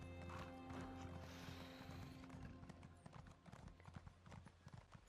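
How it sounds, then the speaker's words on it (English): An armored horse mount covered in dwarven armor in the video game The Elder Scrolls Online, with a loud whinny followed by steady clip-clopping hooves. "The horse with all the dwarven armor on it."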